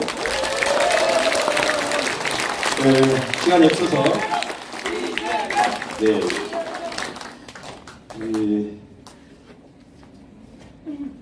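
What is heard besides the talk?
audience applause for Lee Jae-myung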